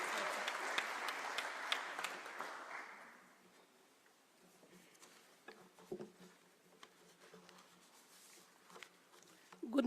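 An audience at an international heritage conference in Kenya claps to welcome a speaker, with moderate applause fading over a few seconds into scattered footsteps, rustling and faint room noise.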